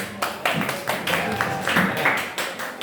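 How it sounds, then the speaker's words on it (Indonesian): A school class applauds a student group in a classroom, loose, uneven bursts of clapping that swell and dip, fairly close and lively, with scattered voices mixed in. "Tepuk tangan untuk kelompoknya Mas Yusuf."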